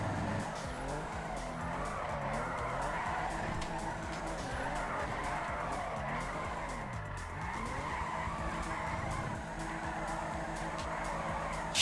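A car drifts through corners in the FiveM video game, its tires squealing and skidding continuously over a revving race engine that rises and falls, loud and close throughout.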